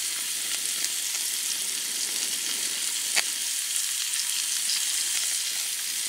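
A Primus camping stove burns on a low simmer in a forest, a steady soft hiss running throughout with faint crackles and one brief tick, no talk.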